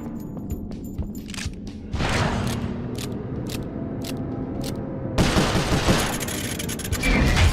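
Rapid bursts of gunfire in the Sly Cooper video game, with volleys of sharp shots and thuds that grow denser and louder near the end.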